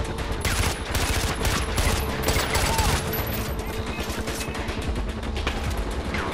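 Gunfire from the video game Far Cry 4 in a war zone: repeated rapid bursts of shots crackling in quick succession under a steady din, loud and dense throughout.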